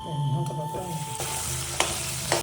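Brief burst of vegetables for chow sizzling on a hot, wide tawa, with a few sharp clatters of a utensil moving them around.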